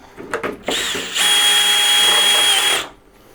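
A power screwdriver drives screws into a rack mount for audio gear: short ratcheting clicks, then a steady high whir for about two seconds, close and loud, with no talk.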